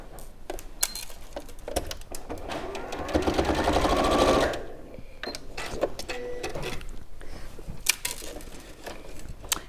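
A sewing machine tacks fabric straps onto a panel, running in short bursts with a longer steady stretch of rapid stitching in the middle, close and clear with no talking.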